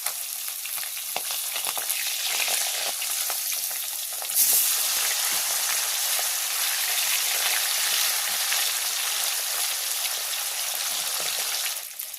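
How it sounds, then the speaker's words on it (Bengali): Loud, dense sizzling of rohu fish pieces frying in hot oil, a continuous crackling hiss that swells slightly partway through and never pauses. "একে একে মাছগুলো তেলের মধ্যে দিয়ে দিলাম"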